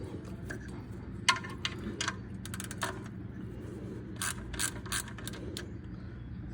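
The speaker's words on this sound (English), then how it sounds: "you're going to loosen up your drain plug" A ratchet works the oil drain plug loose on an Infiniti G37, giving bursts of quick metallic clicks in uneven runs with pauses between, close up, over a low background hum and without talking.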